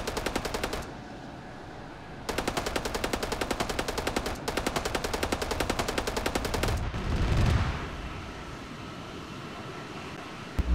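Automatic gunfire from the video game ArmA 3 rattles in long rapid bursts, a steady machine-gun stream that stops and restarts, loud and close, ending with a rumbling blast and quieter ambience.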